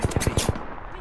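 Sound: gunfire in a video game

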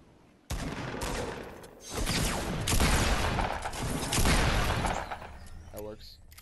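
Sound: shotgun fire in Fortnite video game

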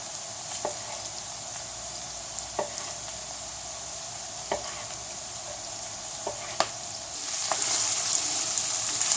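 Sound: frying the sausage, bacon and vegetable mixture in a pan

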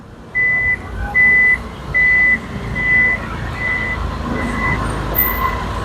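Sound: Isuzu MU-X power tailgate warning beeps

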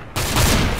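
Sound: shotgun shot in video game CS:GO

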